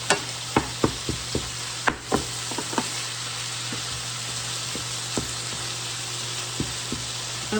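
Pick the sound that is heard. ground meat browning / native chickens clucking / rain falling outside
ground meat browning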